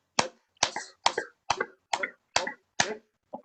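Seven sharp, evenly spaced hand claps ring out close and clear for a health exercise at a meditation and brain-education lecture, each a crisp single smack with silence between, and no talking.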